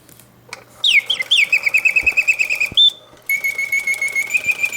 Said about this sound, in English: The bird automates exactly as she should, hitting all of the oscillating notes with full voice.